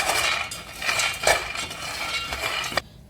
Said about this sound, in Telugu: కడాయి హీట్ ఎక్కినాక ఒక కప్పు వేరుశెనగుల్ని వేసి సిమ్లో బాగా వేయిస్తూ ఉన్నారు